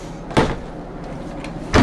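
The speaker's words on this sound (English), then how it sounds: "You open up the toilet door and it" Two sharp, hollow clunks of a motorhome toilet door, one swung open and one latching shut, with quiet room tone between them.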